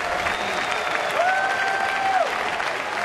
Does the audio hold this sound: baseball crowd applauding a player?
yes